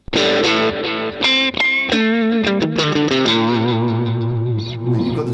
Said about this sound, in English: you've got the delay kicking in there